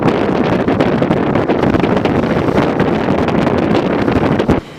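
Strong wind of about 30 to 35 knots on the Barrow Lagoon roars and buffets the microphone continuously, loud and rushing, then drops off abruptly near the end.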